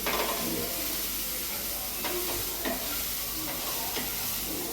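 Grated coconut stirred into a frying pavta (field bean) vegetable dish with onion and tomato: a constant loud sizzle and hiss with a few soft scraping strokes of the spoon, close by, with no voices.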